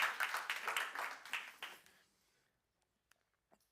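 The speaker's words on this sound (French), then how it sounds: "On peut applaudir Pasteur Urbain, il est magnifique." A church congregation claps for a pastor, a brisk burst of applause that tapers off within two seconds, leaving near silence with a few stray sounds.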